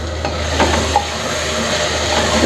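Onion and tomato frying in a pan for a homestyle chicken gravy, stirred with a spoon: a steady close sizzle and hiss runs throughout, with a few soft scraping strokes and no talk.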